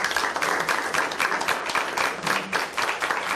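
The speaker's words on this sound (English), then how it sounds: "Let's give them a round of applause." Audience applause at a talk, a dense, steady patter of many hands clapping close and loud for a few seconds.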